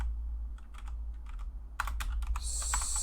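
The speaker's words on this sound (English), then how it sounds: "I can touch type with a fursuit head on" Touch typing on a computer keyboard by someone wearing a fursuit head, with quiet scattered keystrokes at first, then a denser burst of close, crisp clicks over a low background hum.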